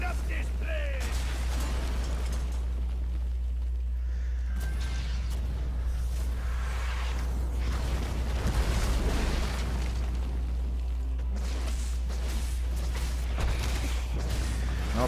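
Cannon shots and bursts in a Chair League esports match, LiT eSports against Shoulder Shrug, sounding as dense muffled booms and pops layered under a steady low hum and busy game noise throughout.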